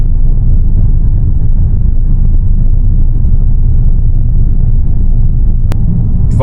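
A 2024 Volkswagen GTI driving in sport mode, a steady loud low engine and road rumble from inside the cabin with no pauses and a brief faint click near the end.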